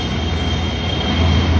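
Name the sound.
metro train running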